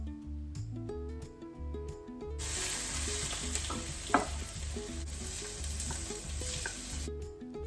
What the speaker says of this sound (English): then I'm going to fry off the onion for a few minutes before adding the red pepper